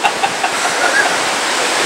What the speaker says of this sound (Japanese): こんな波の音、ええの聞いて